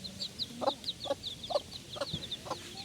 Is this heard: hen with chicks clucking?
yes